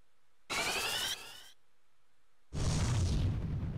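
A fire spell cast by the summoner Rydia in Final Fantasy IV sounds as two synthetic bursts: a bright crackling whoosh, then silence, then a louder rumbling, roaring blast.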